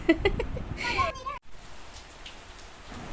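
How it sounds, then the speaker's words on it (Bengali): Heavy midday rain pours down in a steady wash of noise after a brief stretch where voices speak over it near the start. "আবার দেখো দুপুরের দিকে খুব জোর বৃষ্টি এসে গেল"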